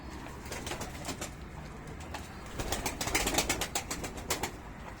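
Pigeons kept by a breeder, soft cooing and rustling with bursts of wing flapping, fairly faint and close in a quiet loft, no speech.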